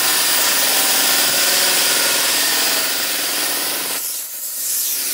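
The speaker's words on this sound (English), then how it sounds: "I'm going to go ahead and chop off a little bit of the bumper" A power tool cuts tabs off the plastic front bumper of a Nissan 350Z, a loud, steady, harsh grinding rasp held close for about four seconds before the pitch drops and the sound thins.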